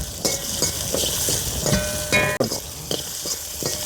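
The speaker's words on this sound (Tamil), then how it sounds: "அப்படியே நல்லா வதக்கி விட்ருவோம் வெங்காயம் நல்லா வதங்கட்டும்" Whole onions sauté in a pan for Kerala-style dry fish curry with tamarind, cooked outdoors at sea, giving a close, steady sizzle broken by repeated scraping stirs.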